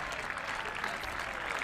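Spectators at a European Division 1 Championship cricket final applaud steadily, a dense wash of clapping from a crowd after boundaries, continuous and moderately loud with no voices over it.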